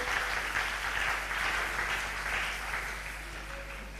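A church congregation applauding God fills the room with dense, steady clapping that holds throughout and eases slightly toward the end.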